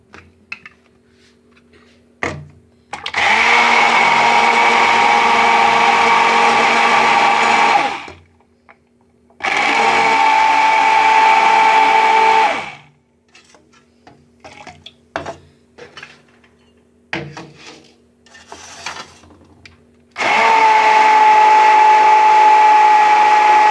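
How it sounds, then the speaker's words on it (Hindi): A kitchen blender grinds cherry juice with honey in three loud bursts of steady whirring motor noise separated by pauses filled with small clinks and handling sounds. "उसके बाद फिर मशीन को चला लेंगे, ग्राइंड कर लेंगे"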